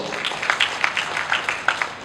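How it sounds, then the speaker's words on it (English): Scattered audience applause at a book launch in a hall, given for a school principal, with individual claps standing out over a steady crowd wash, moderately loud and continuous for a couple of seconds. "Please give her a round of applause."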